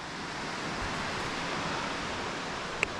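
A strongly running waterfall roars as a steady, dense wash of water noise heard from a short distance, unbroken apart from one brief small click.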